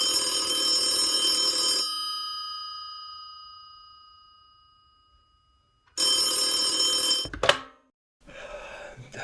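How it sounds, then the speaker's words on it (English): A telephone bell rings loudly in an apartment early in the morning, one long ring decaying into silence, then a second ring cut short as the receiver is picked up with a clattering handling noise. "his phone rings"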